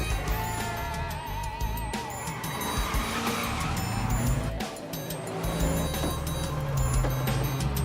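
A stolen truck speeds off in a chase, its engine roaring and tires squealing in repeated bursts amid crashes and clatter, loud and close.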